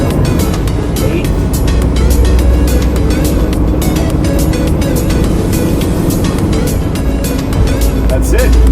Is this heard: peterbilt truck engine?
yes